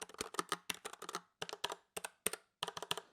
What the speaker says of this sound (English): This is a mechanical keyboard